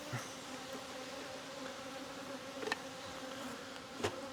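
Honeybees buzzing faintly and steadily around an open hive during an apiary inspection, a low continuous hum with a couple of brief louder passes near the end.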